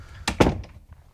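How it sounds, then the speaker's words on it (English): A studio door is shut with a couple of quick, close thuds as it swings and latches, followed by light rustling settling into quiet. "let me shut that door"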